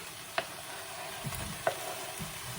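Low, steady sizzling of mince frying in a pan, with a couple of sharp pops and a soft scrape of stirring.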